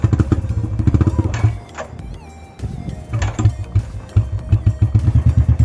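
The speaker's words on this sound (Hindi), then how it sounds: "मेरे को पता है पहली किक में तो स्टार्ट होने नहीं वाला है" Royal Enfield Bullet motorcycle kick-started in winter in a Himachal mountain village, with repeated rhythmic engine thumps and mechanical clatter, a pause of quieter sound midway, then the engine pulsing again close by.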